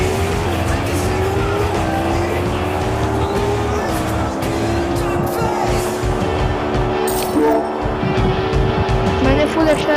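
Car in the Extreme Car Driving video game accelerating at full speed, a loud continuous engine whine climbing in pitch with gear-shift steps and tire squeal, heard under someone talking over it.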